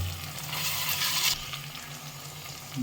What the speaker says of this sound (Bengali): আদা দিয়ে তার উপরে টমেটো কুচিয়ে দিয়ে দিলাম। একসাথে সবই ভেজে নেব।